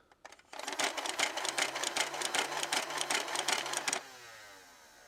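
A motorized automatic Nerf-style toy blaster, the Buzzy Bee Toys Air Warriors, whirs and clatters in a rapid rhythmic burst for about three seconds, fairly close, then winds down and stops.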